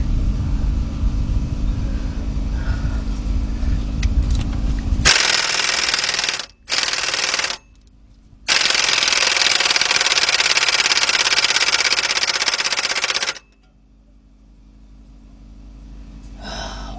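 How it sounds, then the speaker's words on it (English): Air compressor running in a garage during repair work on a 1994 Honda Accord 2.2; a loud, steady broadband roar starts, cuts out briefly twice, then runs continuously before stopping abruptly, leaving quiet. "the compressor's still going"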